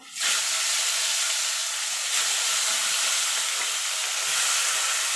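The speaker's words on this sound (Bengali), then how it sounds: "এবার বাকি মাছগুলো ছেড়ে দেবো" Khoira fish dropped into hot oil bursts into a loud, continuous frying sizzle within a moment and holds a dense, steady hiss to the end.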